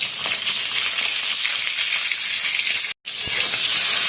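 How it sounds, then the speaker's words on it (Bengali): Pointed gourd (potol) pieces with salt and turmeric fry in hot oil in a pan, giving a steady, close, loud sizzle throughout with a brief break near the end before the sizzling resumes. "এবার পটলটা খুব ভালো করে ভেজে নেব"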